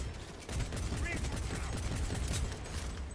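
Rapid gunfire from a shooter game set in Cyberpunk 2077, crackling bursts and fusillade-like shots running steadily throughout, with a voice speaking over parts of the action.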